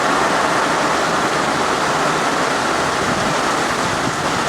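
A fierce gust of wind drives heavy rain outdoors, making a loud, continuous roaring rush like a waterfall with buffeting on the microphone, steady and close, with nobody talking.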